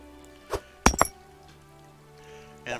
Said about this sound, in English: I dropped all this iron ore and a couple pieces fell down here